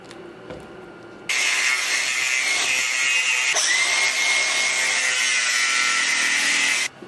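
A steering column on a 1968 Chevrolet C10 is cut and trimmed with a power tool in a shop: a short quieter start, then a loud, sustained harsh cutting whine that runs for about five seconds and stops abruptly.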